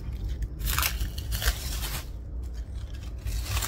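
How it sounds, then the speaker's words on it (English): Protective backing film being peeled off the double-sided tape of a window deflector for a 5th Gen Toyota 4Runner, giving a few crackling, scraping bursts of sticky film pulling away over a low background hum. "Peel this film, and then"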